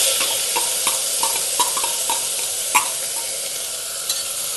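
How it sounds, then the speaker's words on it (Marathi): Rice grains sautéed with curry leaves in a pan for a Maharashtrian gola bhat, a steady bright sizzle with repeated scraping stir strokes and occasional spatula knocks, close and even throughout. "काही छान परतून घ्यायचा"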